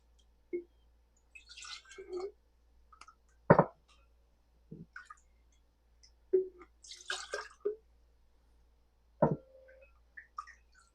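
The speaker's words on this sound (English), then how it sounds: "I'm going to get a ladle, and we're going to put a little bit of it at the bottom of each jar." Cherry syrup is ladled into canning jars in a home kitchen, giving sparse, quiet drips, plops and small clinks spread across a quiet background.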